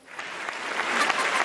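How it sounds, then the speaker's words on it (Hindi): A studio audience on a Pakistani television show breaks into sustained applause, a dense, steady patter of many hands clapping that swells slightly toward the end, with no voices standing out. "तालियों की गूंज में"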